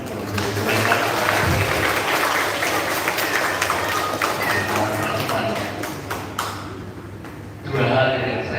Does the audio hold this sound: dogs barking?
no